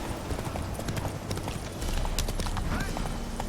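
Hoofbeats of a galloping horse in The Witcher 3, a quick run of sharp clip-clops over game ambience, growing slightly louder in the second half.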